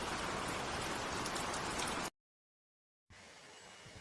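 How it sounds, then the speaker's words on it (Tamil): Heavy rain pours down in a steady, dense hiss close by, cutting out abruptly for about a second before resuming a little softer. "கடவுளே, மழை எவ்வளோ அதிகமா பெய்யுது."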